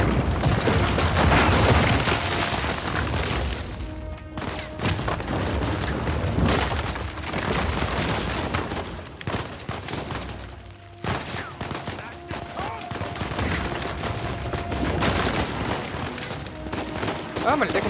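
Rifle gunfire in the video game Uncharted 4: dense, loud bursts of shots and booming impacts in a continuous firefight, with brief lulls, while someone speaks German over it.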